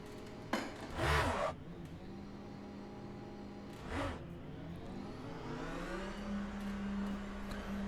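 A hypercar in the Le Mans Ultimate racing game, its engine droning steadily with a couple of brief rushing bursts, then the engine note climbing in pitch as it accelerates again, with no talking.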